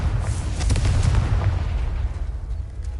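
Confringo blasting spell going off in Hogwarts Legacy, a loud rumbling explosion with crackling bursts that fades into a lingering low rumble.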